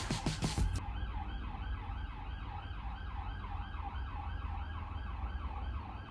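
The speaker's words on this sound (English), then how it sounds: "I do apologise for the sirens" A wailing emergency siren rises and falls steadily in the distance, faint and continuous, with traffic rumble underneath and a brief clatter at the start.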